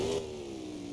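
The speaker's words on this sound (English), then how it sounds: "let's see if we can do a clutch pop" A car engine with a 6.0 and locked differential revs up during a clutch-pop burnout attempt, a brief rising roar that settles into a steady mid-pitched drone, close and moderately loud.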